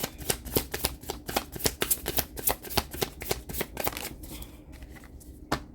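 Tarot cards being shuffled by hand in a rapid run of crisp riffling flicks, fairly close and steady for about four seconds, then a quieter pause and a single last snap, with no talking.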